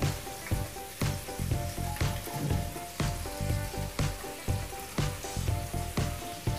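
Onion frying in a pan produces a loud, close, crackling sizzle with rhythmic stirring scrapes roughly every half second, continuous throughout, with no speech.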